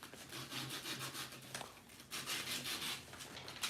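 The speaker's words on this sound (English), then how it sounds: "and we're just going to sand it" Continuous rasping friction of sandpaper rubbed back and forth across a square model railroad weight, close and fairly loud with short pauses, and no voices.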